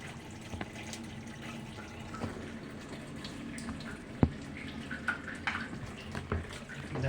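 A Sharp washing machine, repaired after an overflow fault in its water level sensor, fills with water, giving a steady, fairly quiet rush with occasional clunks and drips.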